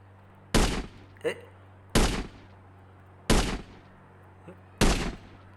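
Gunfire in the mobile game Indian Bikes Driving 3D: four loud, sharp shots spaced roughly evenly about a second and a half apart, with fainter pops between them against a quiet background.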